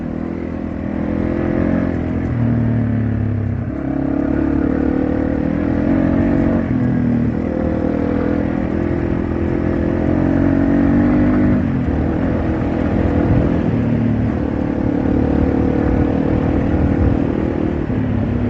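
Yamaha TW200 motorcycle ridden hard off-road, engine loud and close as it revs up and shifts through the gears in repeated rising pulls, with no voices.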